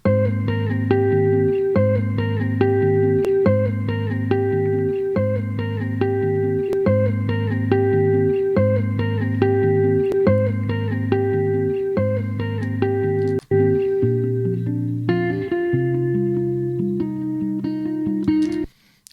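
A smooth, evenly compressed bass guitar run through a vintage-style compressor plays a repeating riff with steady sustained notes, moving to a new phrase near the end, with no talking.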